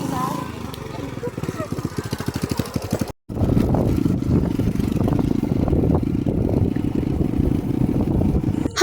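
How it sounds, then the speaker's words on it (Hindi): Motorbike ride to a market along a rough road, a steady engine drone with a rapid putter first, then a brief cutout and a louder buzzing run under people talking. "हम ये अपनी बाइक से जाते हैं।"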